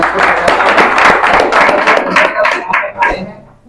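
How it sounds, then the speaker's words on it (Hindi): An audience at a direct selling seminar claps, with distinct hand claps in a loose, lively rhythm standing out over crowd noise before tapering off into a few last claps. "आप सब लोगों के लिए जोरदार ताली।"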